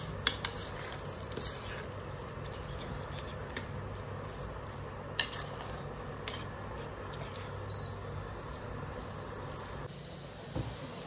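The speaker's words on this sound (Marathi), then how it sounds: "आता त्याच्यामध्ये आपलं मस्त सोयाबीन बारीक केलेलं टाकून घेऊया. मस्त आता मिक्स करून घेऊया आपण." Minced soybean is stirred in a pan, giving faint scraping and occasional light clinks of a utensil against metal over a steady low background hum.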